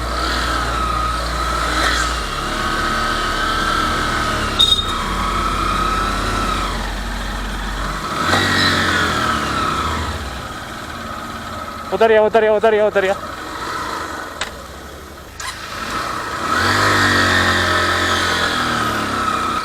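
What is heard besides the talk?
scooter engine straining uphill in second gear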